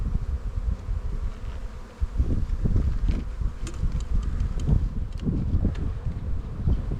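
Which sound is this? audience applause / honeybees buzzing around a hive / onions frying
honeybees buzzing around a hive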